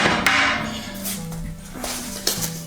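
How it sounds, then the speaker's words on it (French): A few knocks and clanks as a hammer for driving tent stakes is picked up and shifted around, close by, with a low steady hum underneath. "Un marteau pour enfoncer les piquets."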